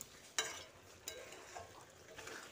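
Fried pointed gourd being stirred into a pan for a mung bean curry, a soft continuous scraping and gentle sizzle with a couple of sharper utensil clinks near the start, close and steady, no talking.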